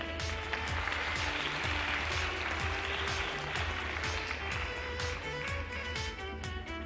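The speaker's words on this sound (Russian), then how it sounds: "Аплодисменты, дорогие зрители" Audience applause at a talent gala concert in Tallinn: a dense, steady wash of many hands clapping throughout, with sharper individual claps poking out over a low hum, quite faint and distant.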